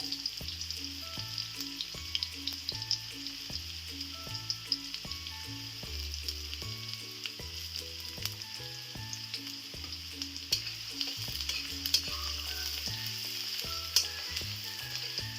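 Onions and garlic frying in white oil in a kadai make a continuous, even sizzle with small pops and crackles, heard close and at moderate level over a repeating background tune, with no talking.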